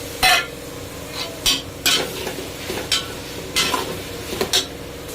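Chopped washed vegetables and peas mixed in a pot for vegetable pulao, a series of loud close scraping stirs over a faint background sizzle.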